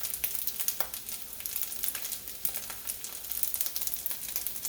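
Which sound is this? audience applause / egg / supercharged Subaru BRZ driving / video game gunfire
egg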